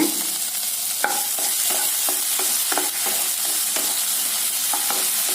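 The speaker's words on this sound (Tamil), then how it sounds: "தக்காளிங்க இதையெல்லாம் சேர்த்து நல்லா எண்ணெயில் வதக்கி விடுங்க" Tomatoes, garlic and green chillies sautéing in hot oil in a pan for a coriander paneer rice dish, a steady close sizzle with a string of scraping stirs from a spoon, no voices.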